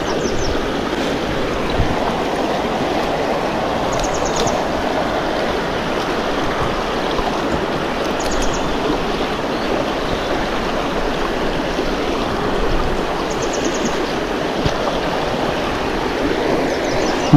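A river flows steadily past a riverside camp, a constant broadband rush of moving water with no voices, close and loud and unchanging throughout.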